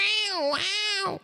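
A human voice imitates a siren but comes out sounding like a cat's meow: two close, drawn-out wails that rise and fall, loud and alone.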